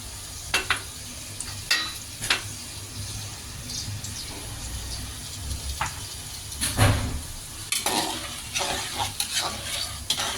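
Spices, onion and ginger paste are tipped into a pot of lentil dal and stirred, with scraping spoon strokes and bursts of bubbling and sizzling coming in irregular clusters over a low background, no speech.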